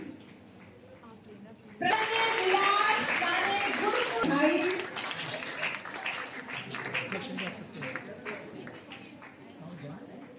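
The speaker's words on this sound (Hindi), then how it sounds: "तालियां बजती हैं सारे बच्चों के लिए" At an inter-school speech competition prize ceremony in Punjab, applause for all the students breaks out suddenly, loud and crowded at first, then thins as voices talk over the fading clapping.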